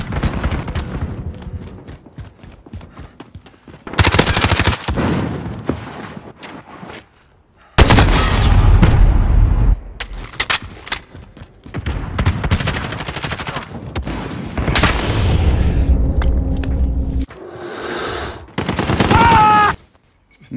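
MP5 submachine gun fired in a first-person shooter game, with several loud bursts of rapid automatic fire separated by short pauses and game effects, no talk over the shooting.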